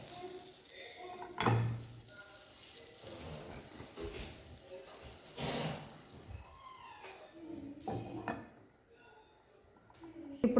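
Chili powder, turmeric and salt go into hot oil, giving a soft, steady sizzling hiss at close range, broken by a few sharp clinks of a utensil against the pan.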